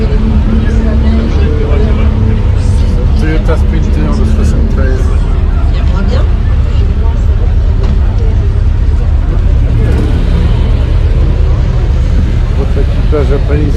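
A 1973 Toyota Sprinter rally car on the Monte Carlo Historique drives past with a loud, continuous engine roar amid crowd babble and nearby voices.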